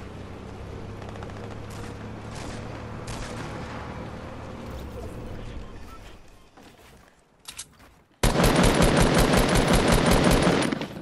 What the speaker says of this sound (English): New SMG, new SMG, new SMG. I hear it.